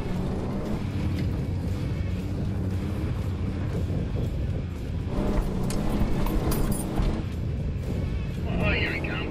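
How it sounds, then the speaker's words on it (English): A 4x4 towing a trailer strains through soft sand on a remote track, its engine a low, steady rumble heard from a distance under wind buffeting, with people talking over it. "Let's see if Kenno can push through with the trailer on the back."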